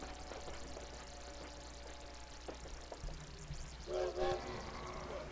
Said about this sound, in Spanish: En la estación de trenes de París, intentando llegar a su regimiento en el Andén 21, Emil conoce